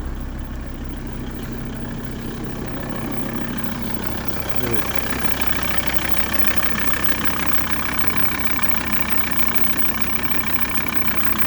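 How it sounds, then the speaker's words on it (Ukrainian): A VW T4 2.5 TDI diesel van engine turning over on a small battery, then idling with a steady, loud, slightly knocking diesel rumble. "Тепер дивись, як воно заводиться на цьому, на цьому акумуляторі маленькому."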